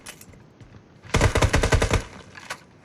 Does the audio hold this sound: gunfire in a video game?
yes